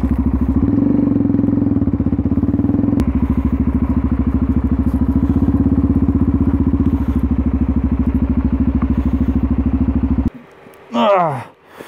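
A parked motorcycle, its engine already well warmed up, idles with a steady, close rumble for about ten seconds before the engine noise cuts off and a brief, higher warbling sound follows.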